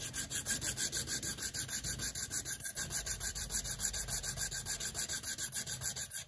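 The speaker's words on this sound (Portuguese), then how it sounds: "Então eu vou usar uma lixa também para isso. Vou lixar aqui." Rapid rhythmic back-and-forth scratching of sandpaper rubbing against a guitar saddle, steady and close, continuing without pause.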